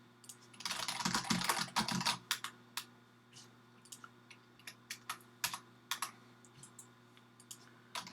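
Close computer keyboard typing, a dense flurry of rapid keystrokes followed by slower scattered taps and clicks against a quiet hum, with no speech.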